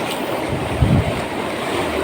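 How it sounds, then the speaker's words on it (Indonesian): Fairly large ocean waves wash onto a shore at low tide, heard as a continuous close roar of surf with a brief heavier surge in the middle, mixed with wind noise. "Kondisi air surut sebenarnya, cuma ombaknya yang agak besar"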